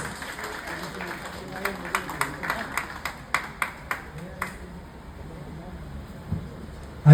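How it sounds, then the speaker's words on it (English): A lecture audience at Holy Cross College gives scattered, uneven claps that thin out after a few seconds, then a quiet room hum. "A round of applause, please"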